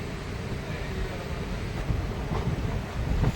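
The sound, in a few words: Deoghar-Howrah Mayurakshi Express train departing Deoghar station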